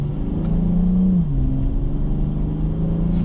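A BMW 840i's smooth inline-six hums as the car accelerates from inside the cabin, a steady rising drone with one brief dip as a gear changes, then climbing again.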